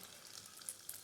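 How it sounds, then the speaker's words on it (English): Nigerian puff puff dough frying in hot oil, a steady broadband sizzle and crackle throughout with a couple of brief louder pops, close and without talk. "the oil is hot enough now, so I'm just gonna start the frying process"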